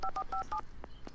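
Telephone keypad dialing in the video game Alan Wake: a quick series of four clear touch-tone beeps, then a couple of softer clicks, fairly quiet and without talk.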